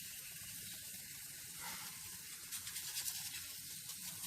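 Methi paratha frying in oil on a hot pan, a steady close sizzle and hiss running throughout with faint scraping toward the end.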